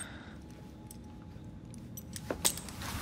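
A set of keys jangles as it is handed over in Assassin's Creed Syndicate, a short metallic rattle with a few sharp clinks near the end over quiet background.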